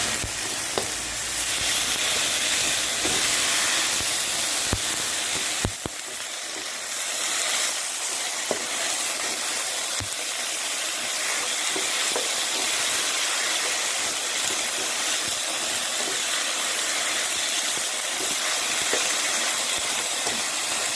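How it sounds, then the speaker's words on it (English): Chicken with vegetables sautéing in a pan for a stir fry, a loud continuous sizzle and hiss with occasional stirring clinks, alone with no talk. "I have been sauteing this for the past 2 minutes"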